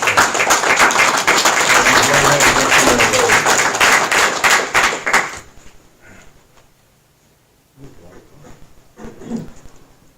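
Applause from a town council meeting audience, a dense, steady burst of many hands clapping for about five seconds that stops abruptly, followed by quiet room sound and faint talk.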